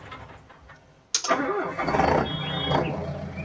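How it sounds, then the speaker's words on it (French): A tractor engine in Farming Simulator 19 cranks and catches with a sharp onset, then settles into a steady, rumbling idle, close and fairly loud. "même le bruit, écoutez quand je le démarre"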